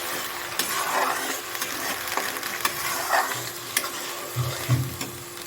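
Ginger paste and onions frying in a pan over a high flame, stirred with a steady sizzle and occasional scraping strokes of a spoon, close and moderately quiet.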